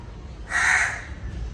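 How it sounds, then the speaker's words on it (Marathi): A single crow caws once, a harsh, fairly close call rising out of quiet background noise, with no voices around it. "कावळा आला"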